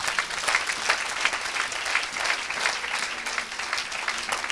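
A church congregation applauding the Lord, with dense, sustained clapping from many hands that holds steady throughout.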